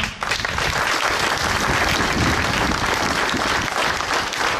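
Sustained, loud audience applause at a 14 July Bastille Day ceremony in Bessan, a thick, even wash of many hands clapping together for several seconds without letup.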